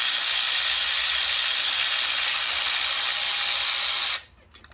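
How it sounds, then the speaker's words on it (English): Ratchet or power driver whirring continuously on 8mm valve cover coil bolts of a Mazda CX-9 during engine work, a steady close hiss-like buzz that stops abruptly near the end, with a few faint clicks after. "So, you know, loosen up 8mm bolt."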